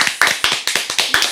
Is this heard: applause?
yes